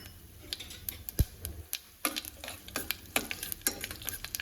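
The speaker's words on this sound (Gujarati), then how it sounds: "બધી જ સામગ્રી સારી રીતે સાંતળી લેશું।" Fennel, cashew pieces and raisins sautéing in oil inside a pressure cooker, giving a soft, close sizzle with scattered stirring clicks and scrapes, no talking.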